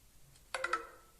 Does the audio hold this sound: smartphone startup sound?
yes